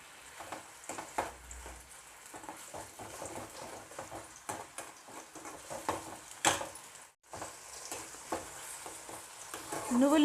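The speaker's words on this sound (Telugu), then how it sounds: "ఇప్పుడు మనం పేస్ట్ చేసి పెట్టుకున్న ఉల్లిపాయ ముద్దని వేసుకొని నూనెలో బాగా వేయించుకుందాం" Onion paste frying in foaming sesame oil: a continuous sizzle under frequent scraping and stirring strokes from a utensil, with a brief dip in sound partway and louder frying at the end, no speech.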